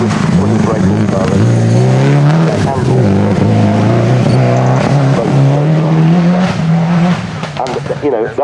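Historic Opel rally car of Team Sweden driven hard at the Historic Rally Festival 2023: a loud, close engine howls and rises and falls in pitch through gear changes, with tire noise and some talk over it.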